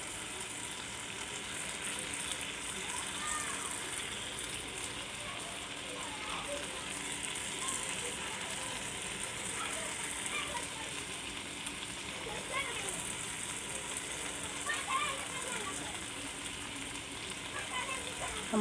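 Spiced chicken tandoori fries slowly over low heat in a home kitchen, giving a soft, steady sizzle and faint crackle that continues quietly throughout.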